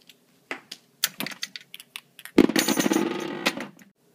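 Balls rattle and bounce across a RotoDrum, an Italian-made rotating drum, in scattered clicks and taps that build into a dense, continuous rolling clatter for about a second before thinning out; no one speaks.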